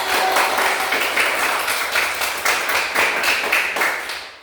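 A classroom group claps together in a steady, rhythmic burst of hand claps, loud and close, lasting several seconds before fading out.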